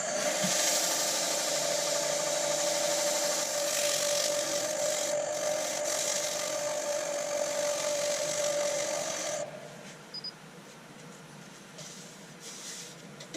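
A wood lathe turning a fruit bowl runs up to speed with a steady mechanical hum and whine, holding for several seconds before cutting off abruptly and leaving a quieter room tone.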